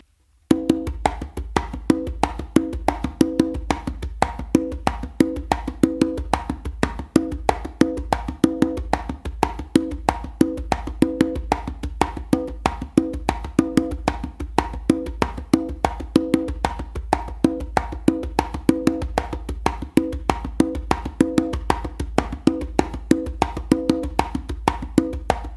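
A slappy tumbao rhythm beaten steadily on a drum, dense repeating hand strokes with sharp slaps cycling in a continuous groove, close and loud with no voices.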